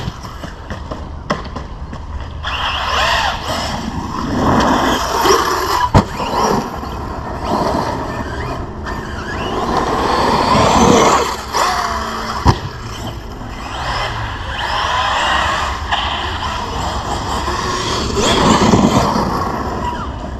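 A 6s brushless RC car motor, a Team Corally Kagama or Arrma Big Rock, whines loudly as the throttle and brake are tapped in the air, rising and falling in quick surges with a few sharp clicks.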